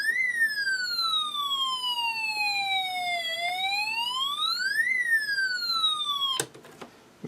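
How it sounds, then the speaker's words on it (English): Electronic siren from an Elenco Snap Circuits alarm IC, a loud up-and-down wailing tone with rich harmonics that sweeps slowly down and then back up, cut off abruptly near the end by a click. "So this first one here should be a siren."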